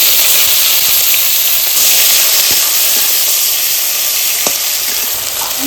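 Ginger and tomato hit hot oil already seasoned with bay leaf, cumin and cardamom for a cauliflower curry, giving a loud, steady close-up sizzle and hiss with a few faint clinks of stirring.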